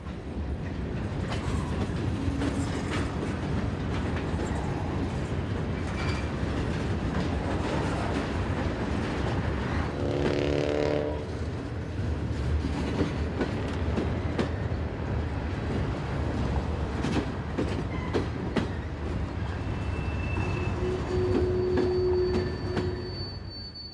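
A long CSX freight train of hoppers and boxcars rolls past on the Cumberland Sub in Maryland, a steady loud rumble of wheels with clicking rail joints and occasional squeals.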